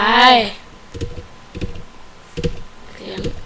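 Computer keyboard keys clack in short bursts of typing during a game, close and fairly loud, following a brief burst of high-pitched voice at the start.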